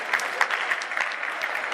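An audience at a children's show applauds steadily, a moderate, continuous patter of many hands clapping close by, with no talk over it.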